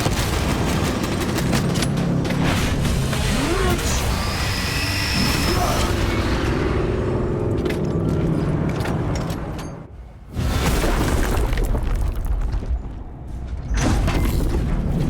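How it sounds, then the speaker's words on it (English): Spacecraft engines rumble in a Warhammer 40k video game battle, a loud continuous low roar mixed with gunfire and booms, briefly dropping out near the ten-second mark before surging back. "I hear engines."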